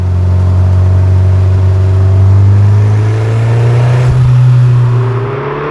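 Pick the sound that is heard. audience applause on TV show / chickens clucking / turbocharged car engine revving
turbocharged car engine revving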